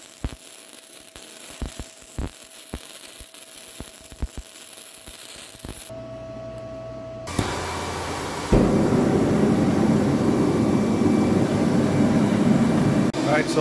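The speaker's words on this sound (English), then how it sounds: "So we're in the fire, got the billet heating up." A forge fire heats a steel pipe billet, first with scattered light knocks over a low hum, then a steady, loud roaring rush of burning gas and air that fills the rest, with no talk.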